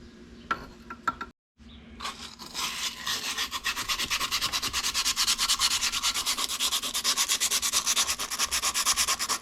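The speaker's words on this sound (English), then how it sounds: "I'm going to chuck this in the drill and sand it nice and clean." A drill whirs steadily while abrasive paper rubs against a spinning starter part from a 1982 Honda Urban Express, a close, continuous sanding rasp after a brief pause near the start.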